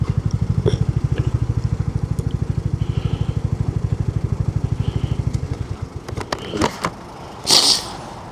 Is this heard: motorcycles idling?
yes